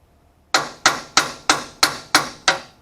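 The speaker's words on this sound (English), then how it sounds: "Just tapping it a bit to get it sort of started initially straight." A hammer taps a rear axle bearing into the axle housing of a 2009–2014 Ford F150, seven sharp, evenly spaced metallic strikes after a brief quiet start, each ringing briefly before the next.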